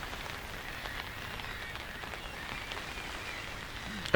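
Heavy rain falls steadily outside a fishing bivvy on a freezing cold day, a dense, continuous hiss with faint scattered patter throughout and no voices.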